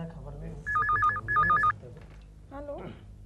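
An old landline telephone rings in two bursts of warbling electronic trills, fairly loud indoors, with people talking in a room before and after the ringing.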